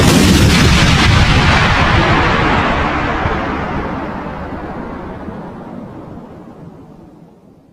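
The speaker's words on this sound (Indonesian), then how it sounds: "bom atom kedua meledak tepat di atas Nagasaki" Atomic bomb exploding over Nagasaki: a massive, booming blast roar that opens at full force and slowly decays over several seconds, broad and rumbling like sustained artillery fire.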